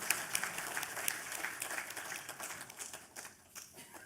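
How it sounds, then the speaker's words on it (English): An audience applauds the awardees at an academic conference award ceremony, ICAMET-23 at NSUT. The crisp clapping from a room of people is steady and fairly close, then thins out toward the end. "Can we have a big round of applause for all?"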